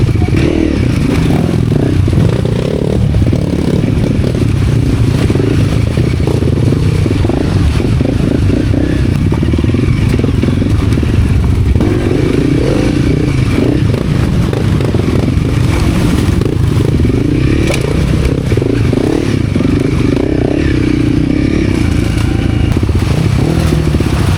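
An enduro dirt bike rides a muddy, rain-soaked trail in Ratchaburi, its engine a loud, continuous close-up drone with clattering and scraping over rough ground.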